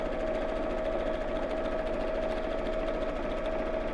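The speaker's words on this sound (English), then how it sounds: "I'm just sewing down both long slides, not across the end" A sewing machine runs continuously, stitching down both long sides of a drawstring channel on a PJ bag. Its motor gives a steady, close, even hum with no pauses or voices.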